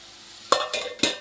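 Beetroot palya frying in a pan: a soft background sizzle broken by three quick, loud stirring scrapes about a quarter-second apart, close up and without speech.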